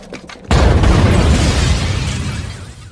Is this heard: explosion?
yes